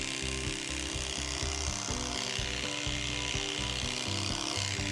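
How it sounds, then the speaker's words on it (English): Electric horse clippers fitted with a size 10 blade trim a horse's face and ears for show, giving a loud, steady buzzing drone with a gritty, rasping edge that runs without pause. "And we'll finish out the face by clipping out their ears"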